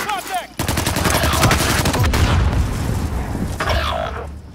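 Loud, rapid automatic gunfire in the Call of Duty Modern Warfare video game, a sustained close burst of shots and booms lasting several seconds before easing off slightly.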